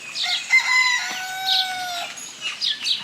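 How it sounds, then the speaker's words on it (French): Hens cluck and chatter with a rooster's crow rising over them, a busy, close farmyard chorus with no talking. "Là, on a les poules."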